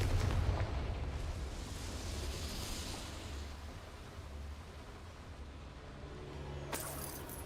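A Confringo spell explosion in a video game, heard as a broad, rolling rumble of blast noise that fades gradually, then a sharp crackling burst just before the end.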